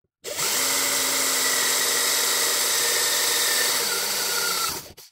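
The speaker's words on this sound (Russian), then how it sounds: "Сверлим второе отверстие." A power drill whines continuously for about five seconds while drilling a hole in a car hood, its pitch dipping slightly near the end before it stops.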